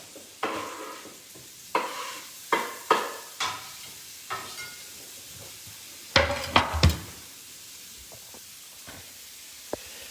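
Broccoli sizzles steadily in bacon grease in a skillet while a utensil stirs, scrapes and taps against the pan in scattered sharp knocks.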